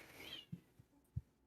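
A cat gives a short, high meow at the start, followed by a few faint low thumps and knocks in an otherwise quiet room.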